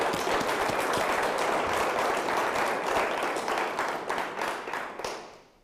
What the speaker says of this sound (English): Can we just give them one round of applause to appreciate them?